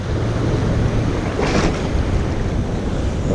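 Ocean water at low tide surges and pulls back along the shore, a loud, continuous wash with buffeting wind noise and a brief hiss of receding surf midway.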